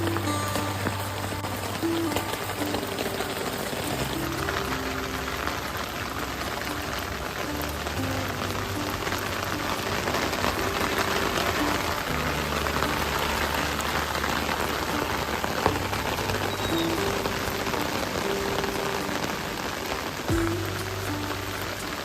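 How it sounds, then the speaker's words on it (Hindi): Steady rain falls on a rooftop terrace, a dense, even patter that goes on throughout, with a faint low hum underneath and no talking. "मैं अभी गई थी ऊपर छत में बारिश देखने के"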